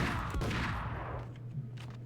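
Gunfire in a first-person shooter video game strikes the player, a burst of low thumping shots at the start fading into a steady low rumble and scattered muffled hits, moderately loud with no talk over it.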